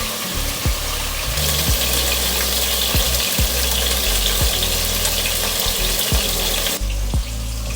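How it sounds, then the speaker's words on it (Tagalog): Steady, dense sizzling of chicken frying in a pan fills the clip, with occasional low pops and thumps, continuous and fairly loud throughout. "habang nagpiprito ako ng manok"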